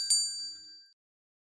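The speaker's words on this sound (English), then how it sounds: "Mary rings the bell for Sims." A single bright ring from a small hand bell used to summon a servant, struck once close by, its clear metallic tone decaying over under a second into silence.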